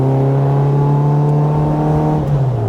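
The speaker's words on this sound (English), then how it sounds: "This is a 1380 custom engine that we had built for us in England." A Bugeye Sprite with a custom-built 1380 engine and Ford 5-speed transmission drives along, its steady loud engine drone holding a strong tone before the pitch drops slightly near the end as it eases off.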